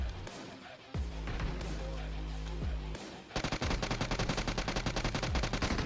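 Automatic gunfire from a UMP and S12 in the mobile battle-royale game BGMI rattles in rapid bursts, separated by brief pauses, then settles into a steady fast stream of shots, with faint talk in the background.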